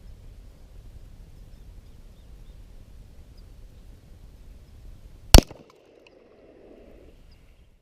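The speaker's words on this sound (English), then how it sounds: "I'll shoot at the brick here" A single sharp AR-15 rifle shot strikes a brick close by, one loud crack followed by a brief ringing decay, after several seconds of quiet low outdoor rumble.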